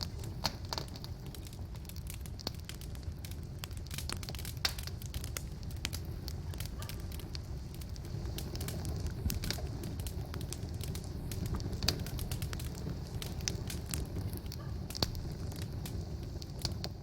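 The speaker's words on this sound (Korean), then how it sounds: "맞댄 장작에 붉은 기가 가득하고 어떤 것들은 하얗게 타들어가고 있다" Firewood burns in an outdoor campfire at a campsite in Gapyeong, Gyeonggi-do, with sharp scattered crackles and pops over a low steady rumble, quiet and continuous throughout.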